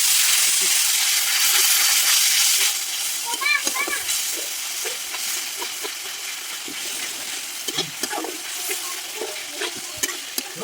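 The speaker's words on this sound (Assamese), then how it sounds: "মছলাখিনি ভাজি দিলোঁ অলপ দেৰি এতিয়া অকণমান দি দিম পানী আৰু অকণমান দেৰি ভাজিম" Turmeric and meat masala spices fry in a pan, starting with a loud hissing sizzle that settles into quieter bubbling and crackling after a splash of water, with spatula scrapes and clinks throughout, close up.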